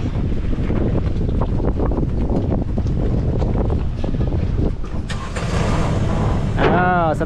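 A boat engine on the reservoir at Mae Ngat dam idles and revs with a rough, steady drone, under heavy wind buffeting and voices talking nearby, rising to a higher whine near the end.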